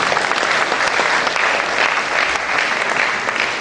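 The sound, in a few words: audience applause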